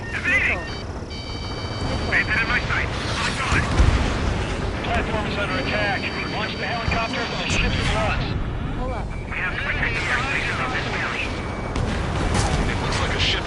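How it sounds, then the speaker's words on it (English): Missile launches and explosions in the jet combat game Ace Combat 7 rumble and boom through a dense, continuous mix, with radio voices talking over the action. "Strider 1, missile launched."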